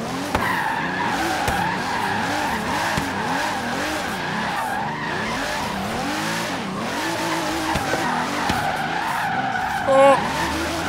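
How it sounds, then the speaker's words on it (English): A 2016 Pagani Huayra BC hypercar drifts in Forza Horizon 3, its tires squealing in a long, wavering, continuous skid over a steady engine drone, ending with a short bump near the end. "Controlled drifting, though, probably not the best."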